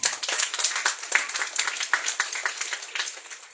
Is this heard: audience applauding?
yes